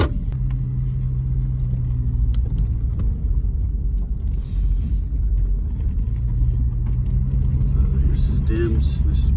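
A 2017–2019 Ford F250 pickup truck rolls down a bumpy road at night, its engine a steady low rumble from inside the cab with occasional rattles and bumps, while someone talks over it.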